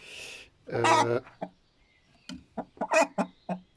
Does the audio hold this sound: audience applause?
no